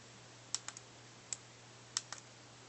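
A few crisp clicks from the noisy buttons of a Gemei 4GB MP4 player, pressed in small clusters, close and quiet over a low steady hum.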